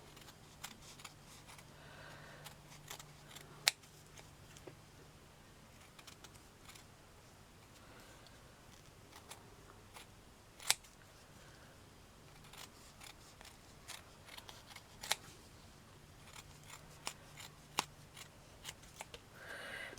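Small scissors snip through felt to cut out a miniature corset piece, faint sharp clicks scattered irregularly over a quiet room, close and soft with no talking.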